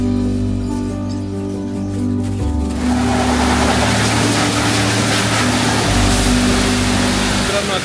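A Honda CB350 motorcycle is washed with water: a steady humming tone runs first, then a loud, close, continuous hissing spray takes over and lasts to the end.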